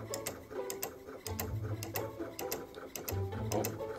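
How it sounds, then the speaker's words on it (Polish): A programmed machine writes with a marker, giving off a steady mechanical ticking and whirring with a low motor hum that swells and drops as it moves, close and continuous. "to jest jakaś maszyna zaprogramowana, że pisze markerem"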